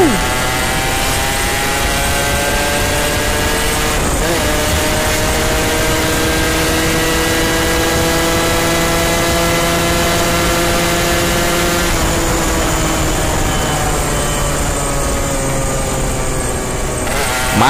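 A Yamaha RX King motorcycle engine revs loudly and close, its pitch rising and falling in long sweeps with a buzzy, harmonic tone throughout.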